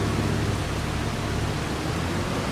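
Rain falling in the farming video game Farming Simulator 25, a steady hiss of even noise with no variation, alone at moderate level.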